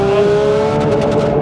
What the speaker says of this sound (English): Right into the rev limiter there